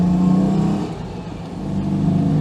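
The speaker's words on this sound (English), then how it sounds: "The farmer has put this across the road, this pipe here, so we've got to go over this ramp." Citroen 2CV rolling over a pipe laid across a farm road as a ramp, its small engine droning steadily from inside the car, dipping briefly in the middle and rising again, with no voices.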